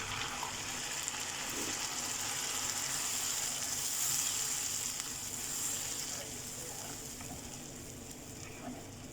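Tomato paste hitting a hot pan gives a steady, dense hiss at close range, holding evenly for several seconds and easing slightly toward the end.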